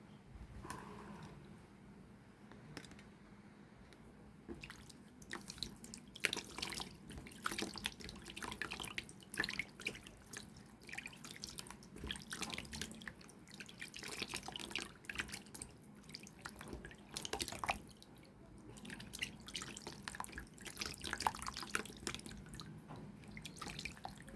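Water runs and drips at a sink as a baking soda and turmeric face scrub is rinsed off, a quiet, continuous patter of splashes and drops with no talking.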